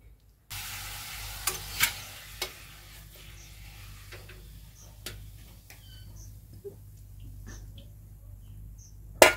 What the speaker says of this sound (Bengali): এখন পাঁপড় ভাজতে লাগছে